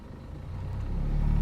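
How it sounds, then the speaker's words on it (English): Throttle pressed on a 1995 Geo Prizm: the engine's low rumble climbs steadily in loudness and pitch over a second and a half, heard up close. "Me hitting the throttle from inside the car now."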